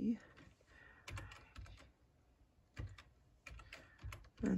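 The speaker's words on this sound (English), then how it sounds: "we want to type in my first name" Computer keyboard keys tapped in short clusters while entering a name into embroidery lettering software, quiet close clicks in a few bursts separated by pauses.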